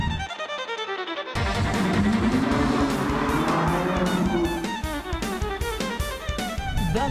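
A car engine revs hard through a three-pipe exhaust, rising and falling in pitch, loud and close with rapid throttle blips, only the middle pipe sounding above 3500 rpm.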